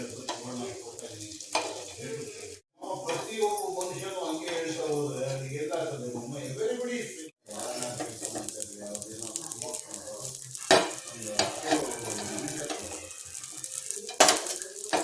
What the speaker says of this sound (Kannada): ಇವಾಗ ದೋಸೆ ಹೆಂಚಿನಲ್ಲಿ, ಫ್ಲ್ಯಾಟಾಗಿರೋ ಹೆಂಚಲ್ಲಿ ಎಣ್ಣೆ ಹಾಕಿ 2 ಕಡೆ ಸುಡಬೇಕು